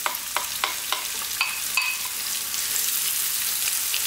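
Onions for a chicken eggplant curry hit a hot pan and a spoon strikes it several times in quick succession. A loud, steady sizzle then builds and carries on alone.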